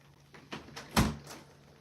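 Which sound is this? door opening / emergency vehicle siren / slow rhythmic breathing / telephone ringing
door opening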